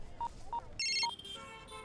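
A phone is dialed to call someone's father: three separate keypad tones beep, then a brief burst of rapid tones follows and fades into a quiet line. The beeps are fairly quiet and clear, with no speech over them.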